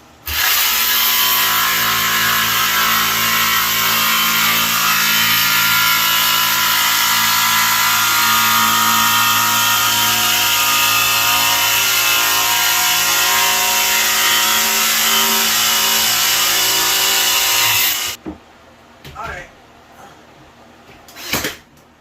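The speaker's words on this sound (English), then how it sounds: "I'll grab my jigsaw and cut my other semicircle out." A jigsaw cuts a semicircle into a clamped tongue and groove wooden ceiling board, producing a loud, steady buzzing rasp that runs unbroken for about eighteen seconds before stopping, followed by a few faint knocks.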